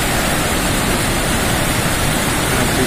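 Rhine Falls in Switzerland roars as a dense, steady wall of rushing water, loud and unbroken from start to finish with no voices.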